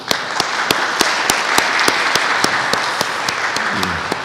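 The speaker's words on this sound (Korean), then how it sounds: "우리 박수로 환영하겠습니다" A church congregation applauds to welcome a new young-adult member, a steady, dense round of clapping from many hands in a mid-sized hall, lasting throughout and holding roughly even.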